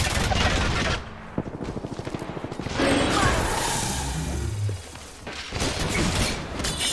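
Gunfire in Apex Legends ranked play: a rapid automatic burst of evenly spaced shots, then louder heavy firing and impacts, close and intense, with a voice talking at times.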